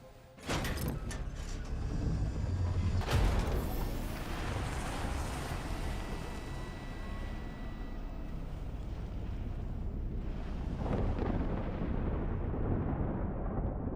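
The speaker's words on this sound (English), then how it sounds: "The old thunder comes in." A low, continuous thunder rumble rolls through a post-apocalyptic game world, with a couple of sharp cracks near the start, and it swells and fades over a steady broadband roar with no talk.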